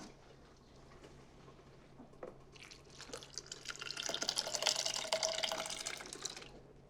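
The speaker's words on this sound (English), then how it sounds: "add the pinto beans right into the blender. I'm just gonna pour it all." Cooked pinto beans and their cooking liquid poured into a blender, a soft wet splashing that starts thin and swells into a steady, fuller pour before cutting off, heard up close with no talking.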